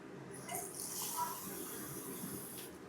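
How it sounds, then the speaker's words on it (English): Water poured into a hot pan of caramelizing sugar sauce for Vietnamese nuoc mam dipping sauce, giving a steady, moderately loud hiss and gushing sizzle that runs evenly for a few seconds. "Just add a cup of water in and leave that on low heat to simmer."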